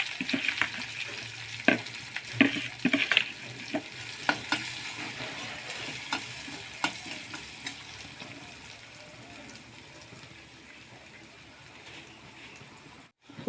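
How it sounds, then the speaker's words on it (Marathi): Ground masala sizzles in hot tempering oil with asafoetida for spicy stuffed capsicum, giving a steady hiss broken by sharp spoon scrapes and clinks early on, then settling into a softer, even sizzle. "आता उरलेला जो मसाला होता तो सगळा फोडणीमध्ये घालून घेते"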